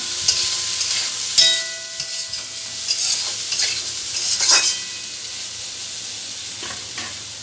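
Potato and carrot pieces sizzle as they're stir-fried together for a singara filling, a steady frying hiss broken by scraping stirs of a spatula across the pan, close and alone with no talk.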